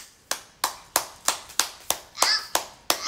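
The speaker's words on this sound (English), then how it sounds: "He clapping for you" A child claps about ten times in a steady, moderately fast rhythm, each clap sharp and close, with faint voices in the background.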